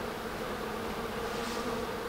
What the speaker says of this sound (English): set them bees out, they will start killing the people